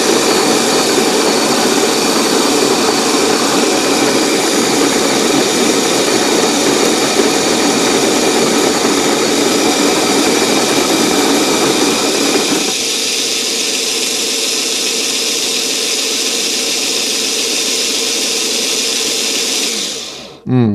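A coffee grinder being burned in roars steadily and loudly on its own with a harsh, blender-like motor whine, shifts to a slightly lower, smoother tone partway through, then stops abruptly near the end.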